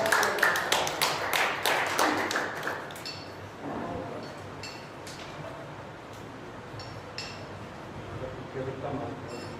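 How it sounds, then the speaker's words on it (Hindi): A burst of audience clapping at a Hindi poetry gathering welcomes the poet Kartikeya, dense and lively for the first few seconds, then thinning into scattered claps and faint room murmur. "तो स्वागत करिए जोरदार तालियों से आदरणीय कार्तिकेय।"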